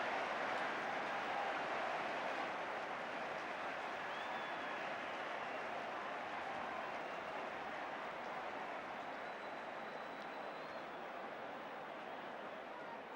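A football crowd at a 1971 Manchester United versus Leicester City match applauds a goal, a steady broad wash of clapping and crowd noise heard from a distance for the whole stretch.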